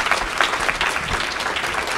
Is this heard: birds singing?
no